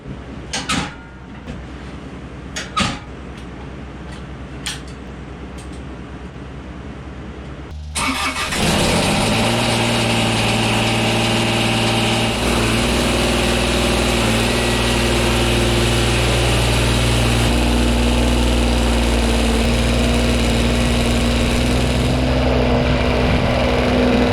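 A few faint clicks and knocks, then a Kubota BX compact tractor engine cranks and fires up abruptly, settling into a loud, steady diesel idle that runs on alone.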